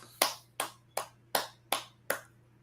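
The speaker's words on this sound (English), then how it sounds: "go ahead and clap it up" Six sharp claps at an even, steady pace, each ringing briefly, with a low hum underneath.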